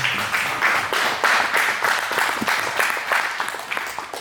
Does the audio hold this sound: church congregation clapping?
yes